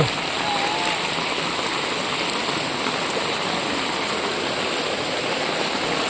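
Heavy rain falling over a flooded town in Tirunelveli district, a steady, dense roar of rainfall that fills the whole stretch without a break.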